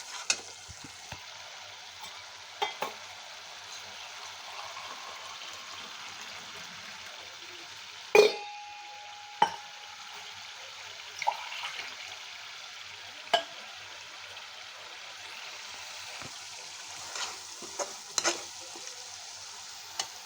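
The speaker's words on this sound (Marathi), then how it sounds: "दोन मिनिट आपण तेलामध्ये उडू टमाटरची पेस्ट." Tomato paste fries in hot oil with a soft, steady sizzle while a spoon stirs it, scraping and clinking sharply against the pan at irregular moments, close but fairly quiet and without talk.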